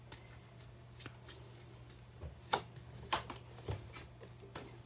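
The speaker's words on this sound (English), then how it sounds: "That's a good shuffle." Tarot cards shuffled by hand in a quiet room, a string of crisp, close riffling and snapping bursts spread unevenly across a few seconds.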